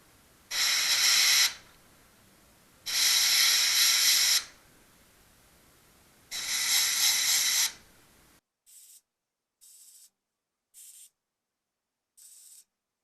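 Sandblaster with an angle-cut nozzle cleaning welds on a Triumph TR250 car hood, three long loud hissing blasts of a second or more each, followed by four short quick bursts, close and with no talking.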